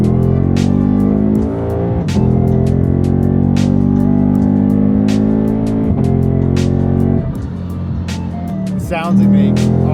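A 714-horsepower Lexus RC F sports car engine revs hard and roars, rising and dropping in pitch through gear shifts, loud and close with sharp bursts.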